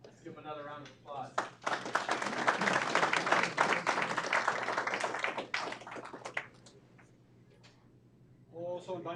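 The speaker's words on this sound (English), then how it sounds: "Let's give him another round of applause." Dense applause from the audience at an Aurora city council meeting swells for about five seconds, then fades, with a speaking voice just before and after it.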